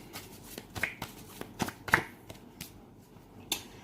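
Tarot cards are shuffled by hand in a quiet room. A series of crisp riffling flutters and soft slaps comes in uneven bursts, close and clear, with no talking.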